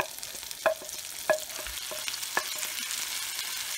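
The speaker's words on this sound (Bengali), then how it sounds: "দিয়ে ভালো করে মিক্স করব আর নাড়তে থাকব যতক্ষণ না টমেটোগুলো বেশ ভালোভাবে মাখি হয়ে যায়।" Chopped tomato frying with ginger-garlic paste in a pan for a Hyderabadi masala chicken, with steady soft sizzling and a few sharp scrapes of a spatula stirring at irregular intervals, close by and with no talking.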